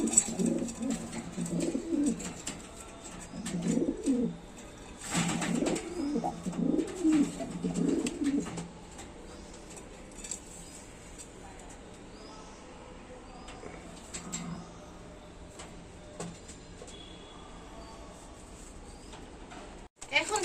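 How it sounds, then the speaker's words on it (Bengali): Pigeons coo in repeated throaty bursts through the first half, close and fairly loud, in a small pigeon keeper's loft that includes a male Sirazi pigeon. The loft then quiets to faint calls and background. "কবুতরটা দেখাচ্ছি সিরাজি নর কবুতর"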